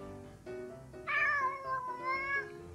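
A cat meows in a drawn-out, rising and falling cry, several mewing notes in close succession, near and clear, with faint background noise beneath.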